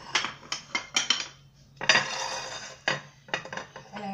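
A serving plate set down among dishes on a kitchen counter while a salad is plated: a series of sharp ceramic clinks and knocks, close and fairly loud, with brief pauses between, no talking.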